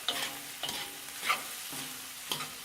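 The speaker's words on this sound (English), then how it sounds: "Now quickly stir the rice with all the veggies and pork." Fried rice with vegetables and pork being stirred in a hot pan: a steady sizzle runs under four or five evenly spaced scraping strokes of a utensil against the pan, close and moderately loud, with no talking.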